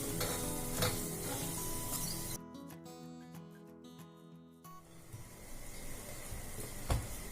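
Mashed potatoes and frozen peas for samosa filling are stirred together in a pan, with a soft scraping and sizzling hiss that goes near-silent for a couple of seconds midway before resuming.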